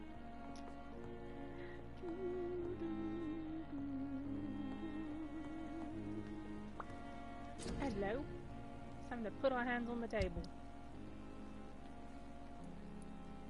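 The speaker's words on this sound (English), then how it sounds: "It's raining outside." Steady rain falls outside in a video game, a soft continuous patter beneath a speaking voice, background music and a few brief game effects.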